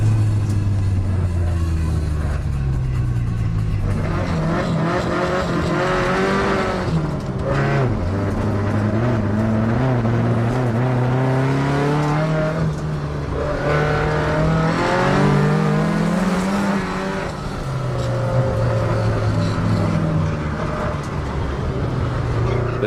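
Several cars drifting on a touge mountain road, one an R32, with engines revving hard, rising and falling in pitch as they slide through corners, loud and continuous with overlapping motor drone.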